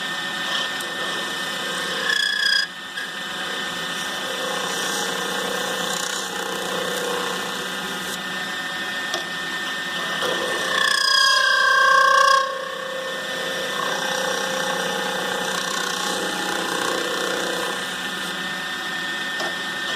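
A wood lathe spins a pizza cutter handle while a 3/8 spindle gouge scrapes and rasps against the turning wood, producing a steady whirring tone with a louder cutting burst midway, heard close and without talk.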